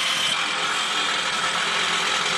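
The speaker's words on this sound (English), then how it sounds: "As you hear the electric jackhammer" Electric jackhammer working in an excavation at an archaeological dig site, a steady, loud, dense rattling hammering that runs continuously without pause.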